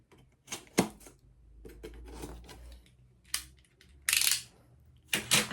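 Box cutter slicing through cardboard while unboxing a small subscription book box, heard as several sharp, scratchy bursts of cutting and tearing separated by short pauses, close and fairly loud, with no talk.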